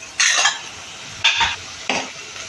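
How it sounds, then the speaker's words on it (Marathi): Spices and onion being sautéed in a pan, with three distinct bursts of stirring and scraping against the pan at roughly one-second intervals over a faint background. "हे मसाले आपले चांगले परतून झाले आहेत."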